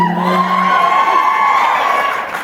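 A convention panel audience in Las Vegas lets out loud, sustained screaming and cheering, with shrill voices dominating and clapping barely distinct underneath.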